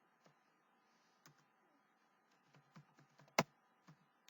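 Someone types into a browser search box on a computer keyboard: sparse, quiet clicks in an irregular rhythm, close by, with one sharper louder keystroke near the end and no voices.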